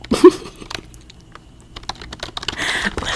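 Rapid clicks and clacks of fingers typing on a computer keyboard, close and crisp, in irregular bursts with a short pause midway and a busier flurry at the end.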